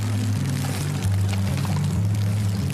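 A pond pump drives water through a chamber with flap valves and out an outlet hose, giving a steady rushing pour over a low, loud mechanical hum that pulses slightly, close by, with no talk.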